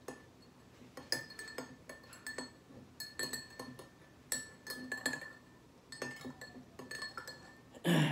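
A spoon stirs barley sprout powder into water in a clear glass, giving repeated sharp glass clinks in irregular bursts, close and fairly quiet, with a louder knock at the end.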